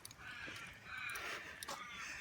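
Several crows caw loudly and harshly in a quick, repeated series, close by, with a steady background hiss.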